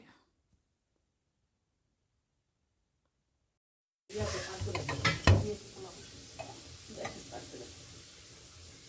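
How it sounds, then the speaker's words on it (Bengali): Oil sizzles and spits in a frying pan after four seconds of silence, with a burst of loud crackling and scraping as eggplant fries, settling into a steady fry. "বেগুন ভাজার জন্য ফ্রাই প্যানে"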